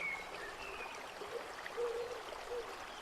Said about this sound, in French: Observez face à vous cette eau qui coule